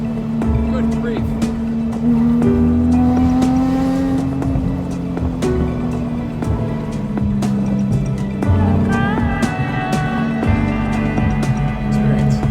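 A car driven hard, its engine revving loudly and continuously up close with shifting tones that rise and fall, plus occasional rattles and thumps.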